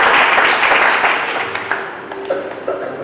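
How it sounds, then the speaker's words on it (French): An audience at a bilingual contest gives applause for an eliminated contestant, a dense burst of clapping that fades over about three seconds, leaving a few scattered claps. "Applaudissez-la, s'il vous plaît."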